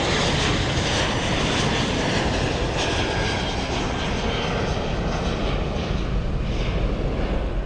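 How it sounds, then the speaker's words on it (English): A loud, sustained jet engine roar from an airplane powering up for takeoff, broadband and constant, with no voices. "watched as the huge aeroplane lifted off the runway into the air"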